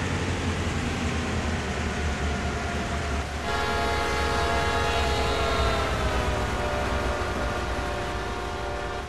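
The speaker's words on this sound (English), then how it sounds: "in real life, they wouldn't use a horn right in the middle of nowhere" Diesel train horn in the Train Sim World game blasting with stacked harmonic tones from about three seconds on, over a steady rumbling engine and rail noise; loud and close, with a slight pitch shift late in the blast.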